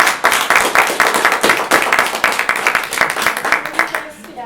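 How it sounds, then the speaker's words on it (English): Audience clapping at a public administration honors induction ceremony, a close, steady burst of many hands applauding for several seconds before trailing off at the end. "One last applause for these wonderful guys."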